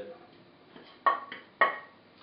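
Spices being mixed in a cooking pot for tehari, with a couple of sharp metallic clanks of a spoon against the pot over a quiet kitchen background.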